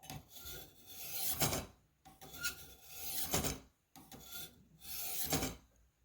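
A Spyderco Police EDC knife drawn along the hones of a Warthog sharpener, giving three rasping strokes of about a second each, separated by short pauses, close up with no talk.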